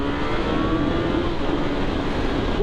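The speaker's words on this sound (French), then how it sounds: "Maintenant on va voir un autre point positif de la moto, son moteur" A Kawasaki Z motorcycle with an aftermarket silencer and a 125-horsepower engine holds a loud, steady roar while riding on a Paris ring road, with a rising rev near the end; there is no talking.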